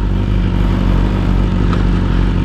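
Loud, steady motorcycle engine idling and revving close by, a continuous deep rumble with rattly clatter and no talk.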